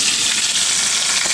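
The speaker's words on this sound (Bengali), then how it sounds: "এখন আমি মাছটা হলুদ লবণ দিয়ে মেখে ভেজে নেব" Narkeli fish coated with turmeric and salt fries in hot oil, making a dense, even sizzle up close that carries through the whole short moment with no voices.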